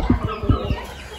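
Roosters squabbling at close range, a quick run of several throaty clucks and squawks in about one second, loud and without any voice over them.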